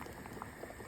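Potatoes boiling in a pot of water, a faint continuous bubbling with small pops, brief and steady.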